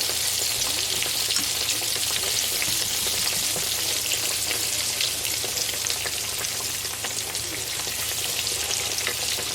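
Green tomato slices frying in a pan of hot oil for Southern fried green tomatoes, a steady close crackling sizzle with dense popping that holds at an even level throughout, no voices.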